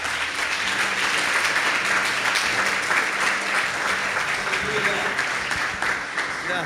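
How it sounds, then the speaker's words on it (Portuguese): Applause from a church congregation, a dense steady wash of clapping across the whole stretch, with some voices mixed in beneath it. "Vamos dar uma salva de palmas para o Senhor."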